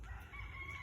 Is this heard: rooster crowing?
yes